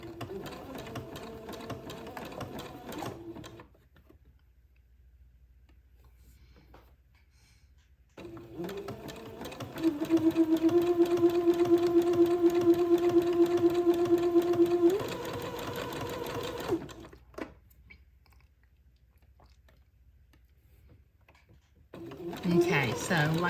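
A sewing machine zigzag-stitches lace to entredeux in bursts of steady, close mechanical whirring broken by quiet pauses, with a person talking over parts of it.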